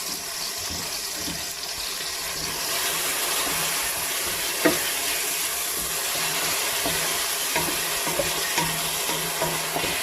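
Bell peppers fry with mushrooms in a pan, making a steady, loud, close sizzle that holds for the whole stretch, marked by a few sharp pops and faint clinks, with no talking.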